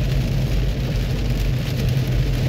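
A heavy downpour hammers a car driving through Belgrade city streets with the wipers on high. It makes a dense, steady roar with the engine low underneath, and no voices.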